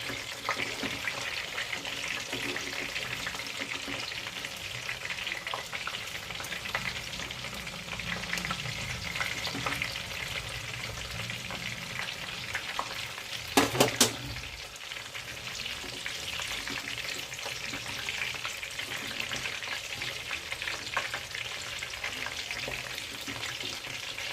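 Skewered chicken satay fries in a pan, giving a continuous even sizzle over a long stretch. A brief clatter comes as the skewers are turned, then the crackle carries on alone.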